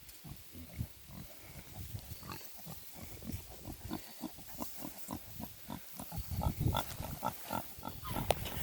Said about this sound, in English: Yeah, there they go, oinking and moving around.